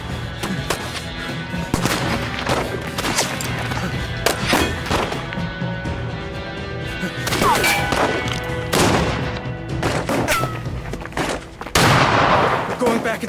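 Sniper and other gunfire in the video game As Dusk Falls, a barrage of sharp, loud shots at an irregular pace, some in quick bursts, mixed with shouting voices and tense game sound.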